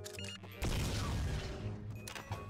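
Gunfire in the video game Garry's Mod, a loud burst of shooting that kicks in suddenly and rolls on as a dense, booming volley with a few quieter shots at the start and end.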